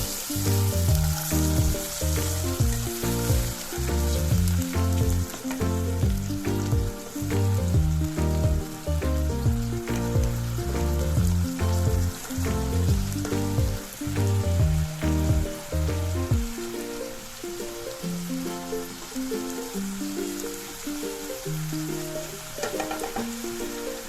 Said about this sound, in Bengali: অল্প একটু জল অ্যাড করে এটাকে ভালো করে ভেজে নিচ্ছি